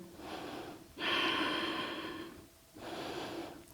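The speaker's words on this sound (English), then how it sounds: "A few deep breaths here." Slow, deep breaths during a yoga session, a long audible inhale followed by an exhale and another breath, soft and close with no talking.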